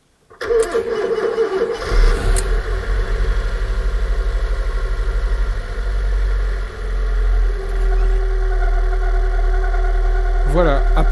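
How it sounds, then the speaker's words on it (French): A Fiat Punto Mk1 with a 1.2 8v Fire engine, freshly rebuilt after a cylinder head job and with a loose alternator belt, cranks briefly and catches, then settles into a steady, close, loud idle that runs alone to the end. "le moteur a un joli bruit, un ralenti impeccable"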